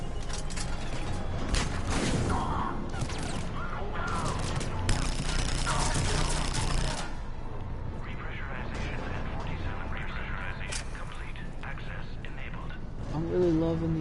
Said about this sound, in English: when I'm firing, the weapon tends to move up.